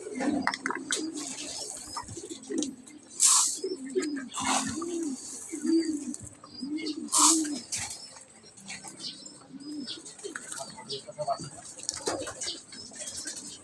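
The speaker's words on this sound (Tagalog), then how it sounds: "Patuka na tayo mga kalapatid." Pigeons coo repeatedly at feeding time in soft, rolling calls close by, with occasional sharp chirps, flutters and faint voices in the background.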